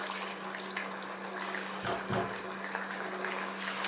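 Water poured into a cooking pot for chicken curry runs steadily with a broad splashing hiss, briefly swelling into a fuller gurgle partway through, close by with no voices.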